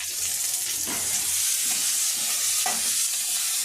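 A handful of curry leaves hits hot frying masala with tomato and grated coconut, giving a loud continuous sizzle with a few stirring scrapes, close up and without talk.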